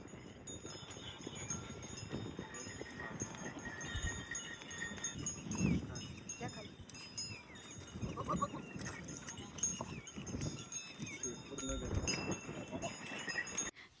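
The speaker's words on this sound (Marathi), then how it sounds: "ऐन वेळेला तिथं शेळ्या गाया सुद्धा आल्या पहा. त्यांच्या त्या गळ्यातल्या घंटीचा आवाज" Goats and cows pass by on a village road, their neck bells clinking irregularly under a busy outdoor mix of animal movement and occasional bleats, fairly close throughout.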